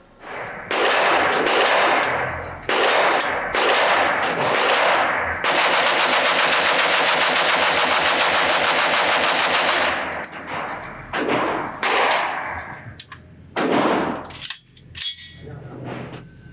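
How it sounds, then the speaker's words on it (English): A CMMG Resolute, a modern AR-15 and AK hybrid rifle, empties a magazine at a shooting range as fast as the trigger allows: loud, close shots in quick clusters, then a long unbroken rapid string, tapering off into a few final cracks. "So let's just do a quick mag dump and see how fast I can empty a magazine."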